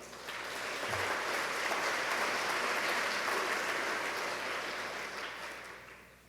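An audience at a climate change talk by John Kerry applauds in a steady, dense wash of clapping that swells and holds for several seconds before easing off.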